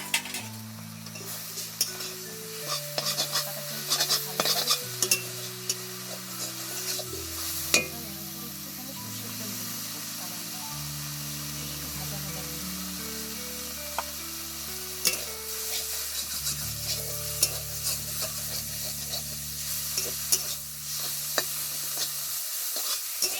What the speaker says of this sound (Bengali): এটা খুব ভালোভাবে ভেজে নিয়েছি